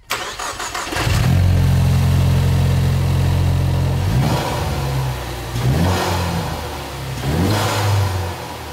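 A Ford Mustang S550 fitted with a Flowmaster Delta Force cold air intake starts up and revs: a loud, close engine note climbing and falling in three or four throttle blips over a steady idle, with no talking.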